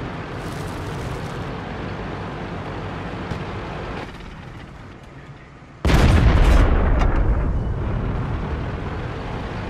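Tank cannon fire in World of Tanks, a German Panther engaging 88s: steady loud engine rumble and battle noise, then a sudden heavy boom near six seconds that rings out and decays over the following seconds.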